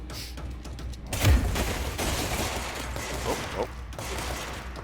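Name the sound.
gunfire in the video game Control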